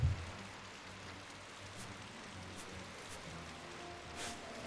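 Steady rain falls in the Final Fantasy XII video game, a soft continuous hiss with a few brief drop-like ticks scattered through it. Low and even, with no one talking.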